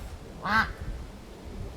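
A single loud, nasal squawk from a duck, close by and brief, against quiet outdoor background noise.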